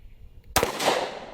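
A SIG 1911 pistol fires a single shot of .45 ACP 230 grain jacketed hollow point ammunition, a sharp, loud report followed by a rolling echo that slowly fades, with no talking.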